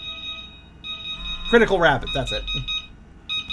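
An alarm clock rings in the video game Fall of Porcupine, a steady high electronic beeping tone that pauses briefly while a person talks over it, then resumes.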